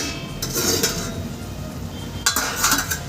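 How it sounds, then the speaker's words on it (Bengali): A metal lid is lifted off a pot of mango simmering for a light mango chutney, giving two sharp clinks of lid on pot over a soft, steady cooking hiss. "আমি ঢাকনা তুলে দেখিয়ে দিচ্ছি"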